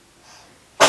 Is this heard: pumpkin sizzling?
no